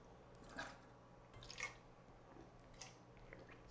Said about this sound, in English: I'm going to take a swig of water.